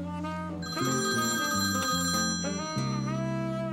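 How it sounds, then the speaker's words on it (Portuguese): A telephone rings in a repeating electronic ringtone pattern, a steady tonal melody with sustained harmonic notes, loud and alone with no talking over it. "Naquele dia, o telefone tocou."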